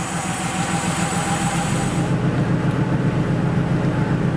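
A Porsche 3.2 Carrera engine idles steadily around 800 rpm, a close, continuous low rumble with an even throb that holds constant throughout.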